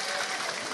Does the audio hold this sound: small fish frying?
no